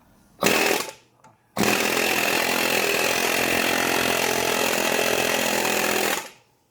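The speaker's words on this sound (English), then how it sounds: "I'm going to do this one more time with the air hammer, with the Matco one." A Matco air hammer pushes out a car ball joint: a short burst, a brief pause, then a long loud continuous rattling hammer run of about five seconds that cuts off abruptly, close by and with no talk.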